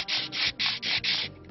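Hand sanding with sandpaper during wet-sanding, five rhythmic back-and-forth strokes with a gritty, scratchy rasp, close and fairly loud, heard on its own.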